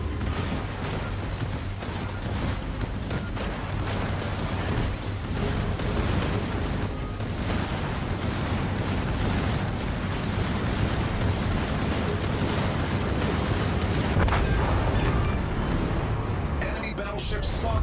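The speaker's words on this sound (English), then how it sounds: "Enemy battleship sunk." Explosions from a naval battle video game as an enemy battleship is sunk: a dense, continuous roar of blasts and rumbling booms, loud and sustained throughout, with game voice lines mixed in.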